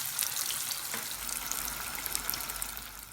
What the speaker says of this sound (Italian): Friggere le polpette in abbondante olio di semi bollente fino a doratura.